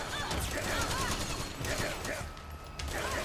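Dense rapid gunfire and mechanical clatter from a Metal Gear Solid 4 firefight ring out continuously under a player's French talk.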